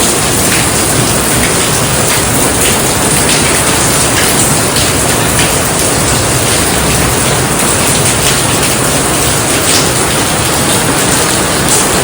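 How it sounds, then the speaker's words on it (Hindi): Heavy rain pours down in a dense, steady wash of fat drops drumming on surfaces, loud and continuous throughout with no talking. "ओ भाई बारिश, लो जी, कितनी तेज, कितनी मोटी बूंदे।"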